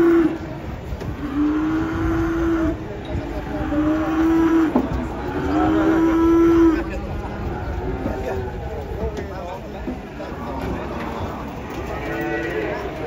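A cow moos several times in long, steady, drawn-out calls while people talk nearby and a vehicle engine rumbles underneath throughout.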